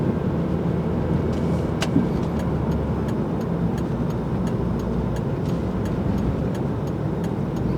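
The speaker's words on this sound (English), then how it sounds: "Man, there's a lot of traffic." Heavy road traffic on a Friday night, a steady broadband roar of passing cars and engines filling the whole stretch at a constant level, with faint repeated ticking on top and no talking.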